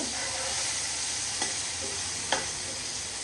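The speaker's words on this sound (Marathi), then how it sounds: "व्यवस्थित चांगलं भाजून घेऊया त्या पेस्टचा कच्चेपणा जाईपर्यंत" A green chilli, garlic and coriander paste roasts in hot oil with a constant, bright sizzle and a couple of soft stirring clicks, close up and uninterrupted by talk.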